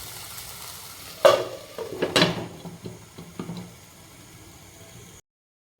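Vegetables stir-frying in a pan for veg fried rice, a sizzle punctuated by loud clanks and scrapes of a spatula early on, easing to a quieter fry before cutting to silence.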